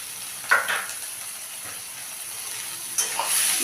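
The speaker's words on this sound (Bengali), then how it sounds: "আদা রসুনটা আমার কষানো হয়ে গেছে" Crushed garlic and chopped ginger fry gently in a pan, a quiet steady sizzle with a few brief louder bursts of stirring near the start and toward the end.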